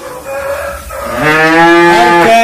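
A cow at a cattle market gives a loud, close moo, rising into a long full-throated call after a brief quieter lead-in, with no talk over it.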